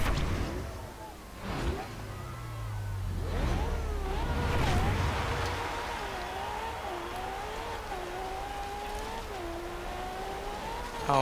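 A 1995 Ferrari F50 in Forza Horizon 2, on an extreme offroad build, revs and accelerates with a steady, sustained engine note that rises and wavers in pitch, loud and close throughout.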